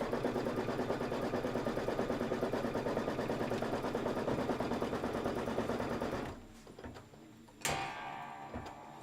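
Fast, even mechanical chatter of an embroidery machine stitching a tack-down for a quilted table topper background piece, steady for about six seconds before stopping, followed by a few quieter clicks and a sharp clack.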